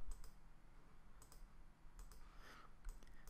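A computer mouse gives a few faint, sparse clicks at close range while a folder on a desktop is selected, with quiet room noise between clicks and no speech.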